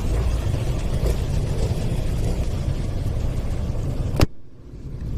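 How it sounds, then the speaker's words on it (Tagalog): Cars idle in road traffic near San Jose del Monte in the Philippines. There is a steady, close low engine rumble, then a sharp click and the drone drops quieter. "Ay, traffic pala dito."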